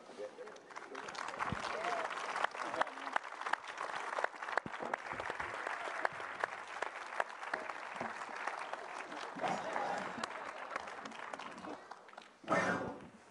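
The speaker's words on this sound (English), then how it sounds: "Let's do another round of applause for everyone." Audience applause breaks out at a NASA event unveiling a spacesuit prototype for a Moon mission, steady dense clapping sustained throughout with a brief surge near the end, heard close and loud.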